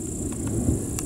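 Thunder rumbles low and steady in open countryside near a village during a storm, with a faint patter of rain over the deep roll and no speech.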